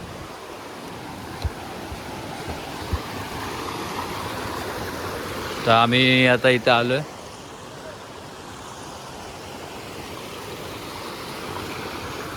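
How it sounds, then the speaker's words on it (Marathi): Water flowing in a stream near Zakopane, a constant rushing wash throughout the clip, with someone talking briefly in the middle. "बघायला जरा इथे पाणी वाहत होतं तर मस्त वाटतंय"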